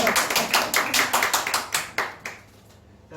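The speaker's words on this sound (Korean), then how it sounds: "박수 쳐주십니다." An audience in a church claps along in a steady rhythm, about a dozen sharp even claps that fade out near the end.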